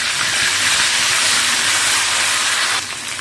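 Ginger-garlic paste sizzles in hot frying oil with browned onions: a loud, steady hiss that holds for nearly three seconds, then settles to a quieter frying crackle.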